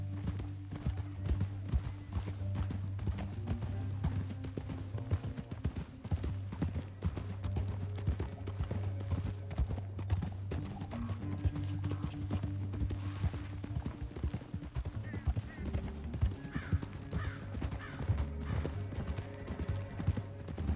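Steady clip-clop of horse hooves, rhythmic and continuous, over a low droning background with a faint creak now and then.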